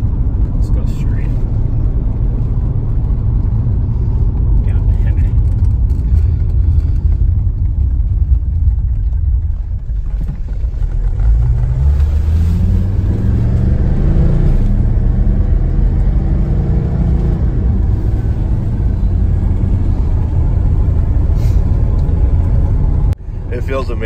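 A car engine rumbles steadily from inside while driving, a deep low drone that rises in pitch as it accelerates midway, with talk over the engine noise.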